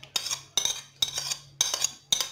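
A spoon mixes chopped onion with tuna in a bowl, giving five regular scraping, clinking strokes about half a second apart, close and fairly quiet.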